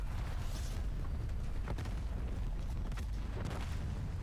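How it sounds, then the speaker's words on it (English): Booms and rumbling blasts from a video game shooter match, a continuous dense wash of layered explosions and bursts at constant loudness throughout. "There's a lot of explosions right now."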